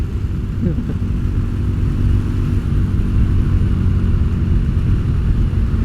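A Yamaha XV250 bobber with a modified carburetor slide, its 22-horsepower engine running: a loud, continuous low rumble that stays fairly even throughout, with no voices over it.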